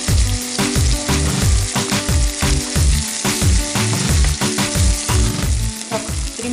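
Something frying in a pan while courgette (squash) is cooked for a salad, with a steady loud sizzle broken by repeated low clattering knocks and stirring throughout, no voices.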